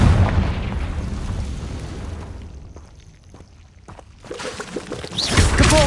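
A Confringo fire spell in Hogwarts Legacy bursts with a heavy, loud boom that fades into a low rumble, followed by a quieter lull and then another rising blast near the end.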